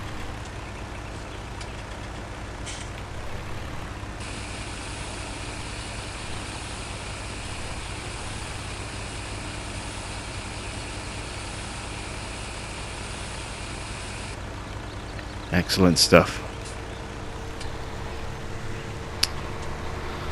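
A truck's engine rumbles steadily in Farming Simulator 17 as it drives and parks, with a high whine for a stretch, a burst of clunks and air-brake noise late on, and a few spoken words.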